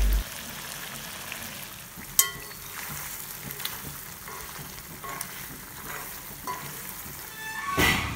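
Chicken fry masala sizzles steadily in a pan as it is stirred and cooked down, with a scrape near the start and a louder clatter of the spoon toward the end, no voices.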